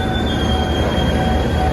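A passenger train creeps slowly into a station, its wheels squealing in a steady, loud metallic whine over a deep rumble, constant throughout.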